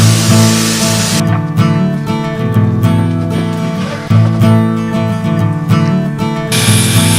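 A DeWalt air hose releases compressed air in a loud, close hiss that starts and stops, with a mechanical whine and clicks running underneath.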